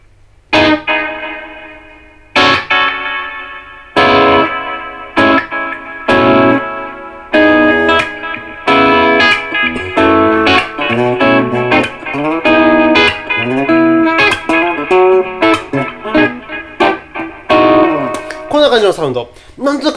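An electric guitar through a Vivie Dolphin Deverb delay-reverb pedal rings out in chords and single notes, each attack trailing into echoing repeats and a wash of reverb, growing busier toward the end.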